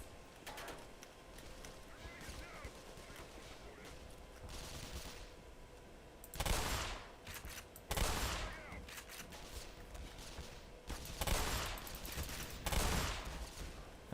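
Shotgun blasts in the first-person shooter Black Mesa, several loud separate booms spaced a second or two apart following quieter game ambience, with a player talking faintly at times.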